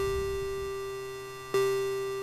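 An NI Massive wub synth patch with its second oscillator tuned a fifth up holds a steady, sustained tone at moderate level, with a brief click partway through before the tone continues.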